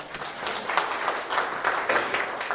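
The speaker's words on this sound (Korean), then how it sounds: "박수 부탁드리겠습니다" Brief applause from a seminar audience at a big data analytics presentation: a steady patter of many hands clapping, moderately loud, with no voices over it.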